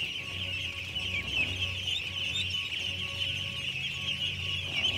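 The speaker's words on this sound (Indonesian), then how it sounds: "Beginilah bebek ini makannya, lapar sekali makannya." Hungry ducks eat feed before being let out into a rice field, giving a steady, dense chatter of clucking, quacking fowl noise that holds at an even level throughout, with no talk.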